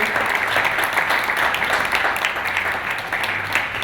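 Steady applause from a debate audience welcoming four panelists, dense continuous clapping filling the room throughout at an even level with no voices over it.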